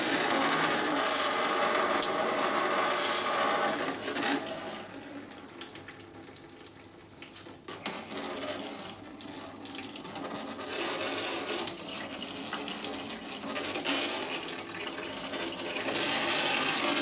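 Motor oil draining from the sump of a 2010 Kia Sportage 2.0 petrol during an oil change, a steady trickling pour that runs continuously and fairly close, rising and falling slightly in strength.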